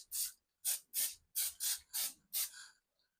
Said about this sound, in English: I just like to spray the pan so I know my bottom gonna be a little crispy.